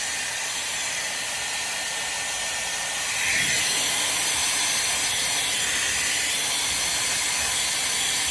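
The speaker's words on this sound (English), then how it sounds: "This is much better with a heat gun" A heat gun blows over colored epoxy resin with a constant, close airy hiss and roar that grows slightly louder after a few seconds and continues steadily alone.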